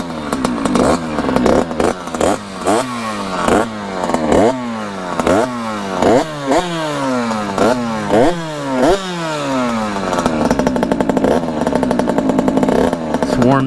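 A gas-powered Sur-Ron dirt bike engine idles and is blipped repeatedly while warming up, a loud, close, rhythmic buzzing rev that rises and falls in quick repeated pulses.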